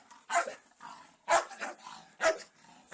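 A dog living by an old house in a small town barks three times at close range, with short irregular pauses and some softer whimpering noises between the barks.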